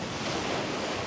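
Surf rolling onto the main beach at Koh Rong, Cambodia, heard as a steady, loud wash of breaking waves mixed with wind noise and no voices.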